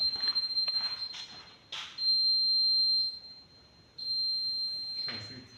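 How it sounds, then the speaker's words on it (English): High-pitched electronic beeps from a smoke detector during a fire alarm system test in a building, sounding in a few short bursts and one longer tone, moderately loud and alone. "Now we move to our detectors to see if they are working."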